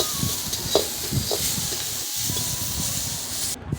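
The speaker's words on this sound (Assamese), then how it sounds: "এতিয়া বটবটি ভাজি হৈ আছে।" Botboti sizzles and hisses steadily while frying in a pan, with a few soft stirring scrapes and clinks close by and no talk over it.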